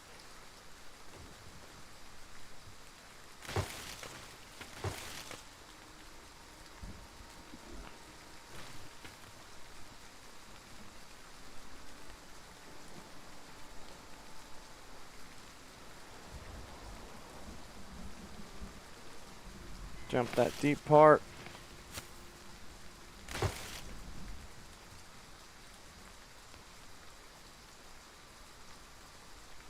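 Rain in the survival game The Front: a soft, constant hiss of rainfall runs underneath for half a minute, broken by a man's occasional speech and a few short louder bursts of game sound.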